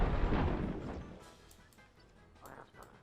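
A single heavy cannon boom in the fantasy battle game Warhammer Dark Omen, loud at the start and rumbling away over a second, followed by fainter scattered impacts.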